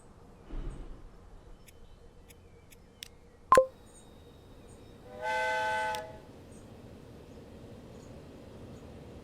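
A passenger train departs in the rail-management game Transport Fever 2: a short sharp horn blast, then a few seconds of steady, chord-like whistle tones over a quiet rumbling background.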